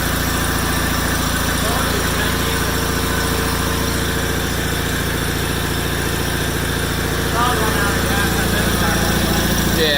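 A 1987 John Deere 318 lawn tractor engine idles steadily at close range, a loud continuous drone with a low, even pulse that holds for the whole stretch, rising a touch near the end.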